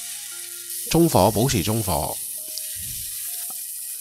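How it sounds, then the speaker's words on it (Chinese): Potato slices pan-fry in oil with a soft, continuous sizzling hiss, partly covered by someone speaking close by. "会有弹油嘅，因为咧薯仔始终有水分"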